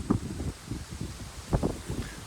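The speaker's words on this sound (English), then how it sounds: "the wind just got a big gust of wind" A big gust of wind sweeps across an open fence line, buffeting the microphone in low rumbling bursts that rise and fall.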